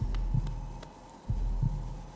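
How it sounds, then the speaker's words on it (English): Heartbeat sound effect from the video game Hollow Knight: low, muffled thumps in pairs at a steady slow rhythm over a soft hum. "Sounds like a heartbeat."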